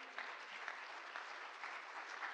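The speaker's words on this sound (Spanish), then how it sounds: "Dele un fuerte aplauso al Señor." A church congregation claps together in a sustained, even round of applause, moderately distant and soft, with a steady rhythmic texture of many hands and no voices over it.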